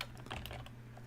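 Keys clack softly on a Color Computer keyboard while BASIC code is typed, a fast run of light, fairly faint taps over a steady background hum.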